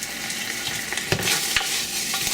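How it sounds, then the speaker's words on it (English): Pork sizzles and crackles in hot fat, a close, steady frying hiss with scattered pops and a couple of sharper spatters. "now you can hear that it's starting to fry in the fat"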